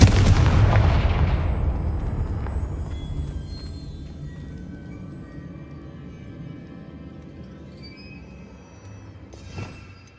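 A Confringo explosion spell in Hogwarts Legacy goes off as a loud, close blast at the start, its boom decaying slowly into a long rumbling tail, with a brief sharp burst near the end.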